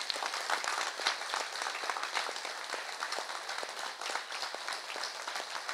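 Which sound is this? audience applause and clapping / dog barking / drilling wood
audience applause and clapping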